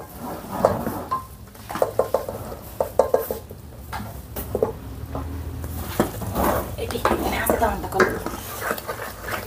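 Rice flour stirred into a jaggery mixture in a pot for ariselu, with repeated scraping and clinking of a spoon against the metal pot and a faint sizzle underneath.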